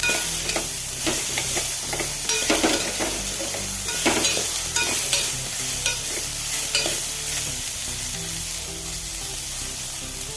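Chopped ivy gourd is stirred in a frying pan, with repeated scraping and tossing strokes of a spoon over a steady sizzling fry, heard close and alone.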